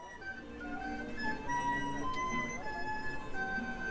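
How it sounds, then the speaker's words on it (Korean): A street barrel organ plays bright, steady tones with sustained melodic notes over the busy outdoor background of Zócalo square in Mexico City, continuous and fairly loud throughout. "광장 주변에는 오르간 아저씨가 여기저기 많고 시끄럽습니다."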